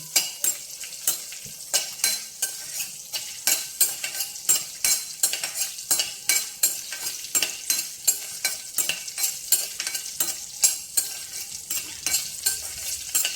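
Green chillies frying in a pan for coconut chutney, a bright steady sizzle broken by regular scraping clinks as a spoon stirs them, close and fairly loud with no talking.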